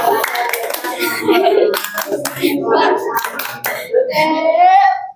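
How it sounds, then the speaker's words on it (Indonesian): Schoolchildren in a classroom clap their hands in quick bursts, close and lively, with kids' voices calling out over and between the claps. "Oke, dah tepuk tangan."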